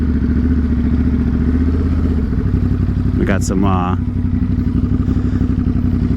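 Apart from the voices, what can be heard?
motorcycle riding past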